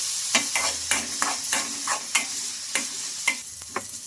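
Onion pieces fry in a pan until golden, a soft sizzle under regular scraping strokes and light ticks from a stirring spoon against the pan, close and moderately quiet.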